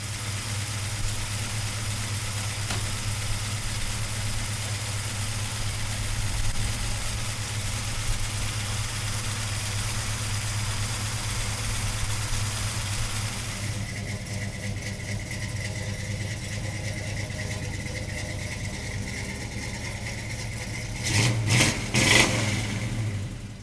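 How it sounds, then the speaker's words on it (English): A 1966 Pontiac GTO engine runs steadily at idle, a loud low rumble that holds for about twenty seconds, then a couple of brief revs near the end, with no talking. "So come on up and we'll fire it up for you right now."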